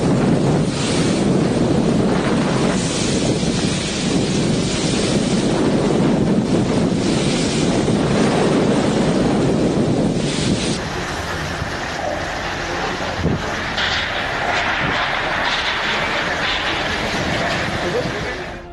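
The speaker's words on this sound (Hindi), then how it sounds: "सिर्फ 100 किलोमीटर की रफ्तार से चली हवाओं को देखिए, सुनिए और महसूस कीजिए" Strong cyclone winds at about 100 km/h from Cyclone Nisarga in Mumbai roar and buffet the microphone continuously with surf-like rushing, easing somewhat partway through but staying loud throughout.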